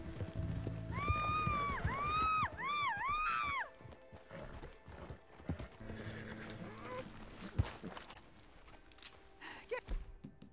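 A horse whinnies loudly in a long wavering neigh in Red Dead Redemption 2, then softer clopping and shuffling sounds follow with a few knocks.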